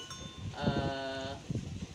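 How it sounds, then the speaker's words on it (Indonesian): Simmental cattle on a farm raised alongside sugarcane give a single drawn-out, tonal bleat-like call lasting under a second, then a few shorter grunts, moderately close, with no talk. "ini juga diantara contoh sapi jenis simpo"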